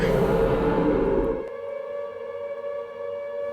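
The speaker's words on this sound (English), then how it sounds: "Oh, there's that siren again." A siren in the video game Silent Hill 2 wails steadily, loud at first under a dense rumble that abruptly drops away, leaving the tone ringing on alone.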